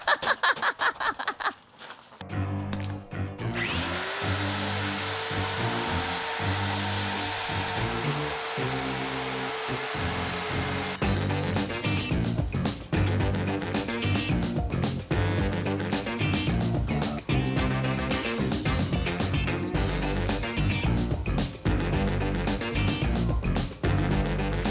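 An old magnetic drill whirs in a workshop while fabricating a spare wheel carrier for an expedition camper, its motor whine steady and close before giving way to busier clattering.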